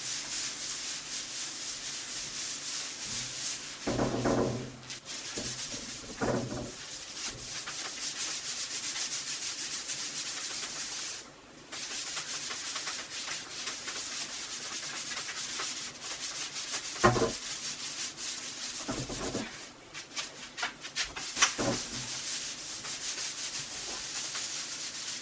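Scrubbing a vintage wooden dining table with soap, a steady soft rubbing hiss running throughout, broken by a few louder scrapes and brief pauses, with no talking.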